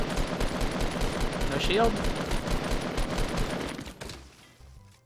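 Rapid automatic gunfire in Fortnite rattles continuously at close range for several seconds, with a player speaking briefly over the shots before the firing stops.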